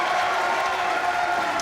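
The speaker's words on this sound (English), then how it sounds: "Well, it's certainly got the crowd going." A bowling crowd at the Weber Cup 2017 cheers and applauds a strike by Stuart Williams, a loud, steady roar of many voices that holds evenly throughout.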